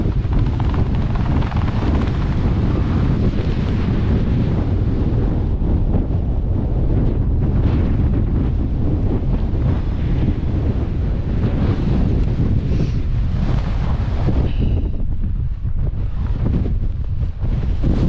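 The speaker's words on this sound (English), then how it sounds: "it's as windy as hell" Gale-force wind blasts relentlessly across the 1,214-metre summit of Ben Lawers in Scotland, a loud, unbroken roar buffeting the microphone for the whole stretch.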